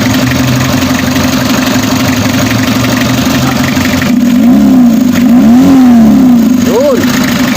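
Diesel engine of a Mitsubishi L300 with a 4D56 motor, smoking and lacking power, idles steadily, then revs up to high RPM in rising and falling bursts, loud and close.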